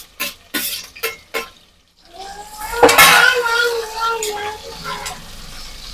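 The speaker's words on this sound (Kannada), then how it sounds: "ಇವಾಗ ಈರುಳ್ಳಿ ಹಾಕ್ತಾ ಇದ್ದೀನಿ." Chopped onion goes into a hot pan with ghee for ghee rice, a few sharp clatters of a utensil against the pan, then a loud burst of sizzling that settles into steady frying.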